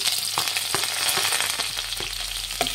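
Two long-sliced onions sizzle and fry steadily in hot oil in a pan while making garlic rice, a continuous close crackle with a few soft stirring scrapes and no talking.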